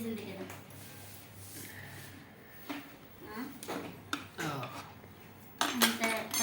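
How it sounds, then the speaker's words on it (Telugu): A metal spoon scrapes and clinks inside a mixer grinder jar during cleaning, irregular close scratchy strokes and knocks, with someone talking over much of it. "మిక్సీ పట్టుకొని ఏమో స్పూన్ పట్టుకొని క్లీన్ చేస్తున్నా"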